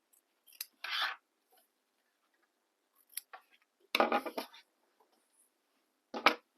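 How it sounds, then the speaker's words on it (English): Scissors snip through fabric seam allowance on a sewing project for a bag, a few separate short cutting bursts with quiet pauses between, close and fairly crisp. "As long as you have it trimmed down, don't trim your stitches."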